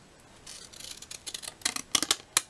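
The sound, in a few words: scissors cutting paper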